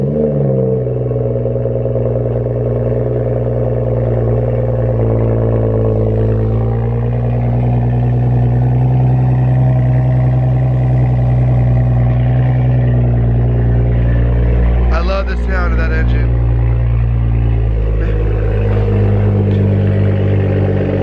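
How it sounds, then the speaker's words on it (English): A BMW 335i engine fires up from cold and holds a loud, steady, close-up idle with a deep drone, a brief mechanical clatter about two-thirds of the way through, and no talking. "One last cold start in the 335i."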